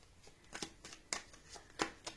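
Tarot cards being drawn and handled in a quiet room, with a series of soft papery swipes and flicks in an uneven rhythm, close and faint.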